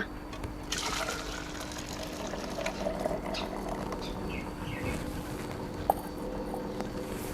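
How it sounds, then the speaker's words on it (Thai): Hot water being poured into a container, a continuous splashing, gurgling stream close by, with a faint chirp in the background. "เราจะเทน้ำร้อนลงไปนะคะ"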